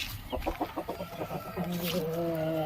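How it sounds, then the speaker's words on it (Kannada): Maipa chickens cluck close by in a short run of evenly spaced calls, then a sustained, tonal squawk holds to the end. "ಇದು ಕೂಡ ಮೈಪ ಕೋಳಿ"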